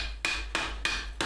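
A hammer bends a sheet metal flange by hand: four close, loud, evenly spaced metallic blows, each with a sharp bright attack and a brief ringing decay.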